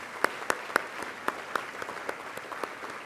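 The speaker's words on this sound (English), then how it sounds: "let's give him a round of applause" Audience applause for Ryan Rogers, area manager of Mid-Florida Credit Union, at a volunteer awards program: sparse, fairly faint clapping with distinct individual claps from a modest crowd, thinning out toward the end.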